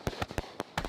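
Fourth of July fireworks at Lake Wildwood go off in five sharp, irregular cracks, each a short loud burst over a quiet background.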